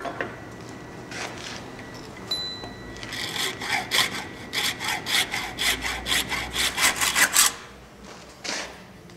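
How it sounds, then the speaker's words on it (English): A hacksaw rasps back and forth through a metal speed sensor plug along its O-ring groove in a quick, steady run of strokes, starting with a few tentative scrapes, close up and without talking. "now we're going to cut it along this O-ring groove with a hacksaw"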